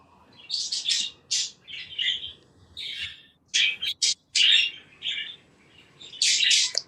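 A pet bird in a cage chirps repeatedly in quick, bright bursts of high tweets and squawks, close and loud, with short pauses between calls.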